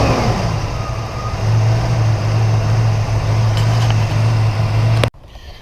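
A truck engine running rough, revving briefly, then settling into a loud, steady, uneven idle close by before cutting off abruptly at the end.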